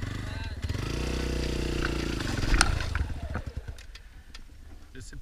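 A dirt-trail motorcycle engine roars close and loud, then drops to a rough idle and sputters as the bike is handled among trees.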